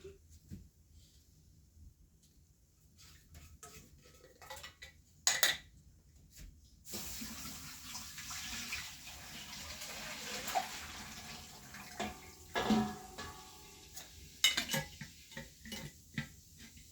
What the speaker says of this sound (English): So I'm gonna pour my milk in the pot